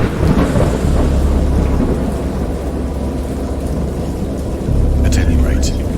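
Thunderstorm with heavy rain falling steadily and deep rolling thunder rumbling throughout, loud and close, swelling again near the end.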